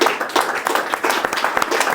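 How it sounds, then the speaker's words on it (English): An audience claps at the close of a speaker session at the Savile Row Concours 2024, a London car show. Dense, steady applause runs for about two seconds, fairly near and even in loudness, with no voices over it. "a round of applause for these two is super"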